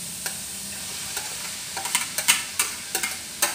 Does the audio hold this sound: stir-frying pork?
yes